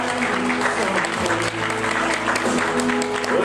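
Wedding guests clap to welcome the bride's mother onto the red carpet, sustained applause over background music.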